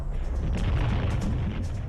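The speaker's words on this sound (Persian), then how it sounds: "در نهایت به نقطه انفجار می‌رسد." A volcanic eruption explosion gives off a loud, continuous, deep rumbling roar with heavy low-end boom that holds steady throughout, with no voices.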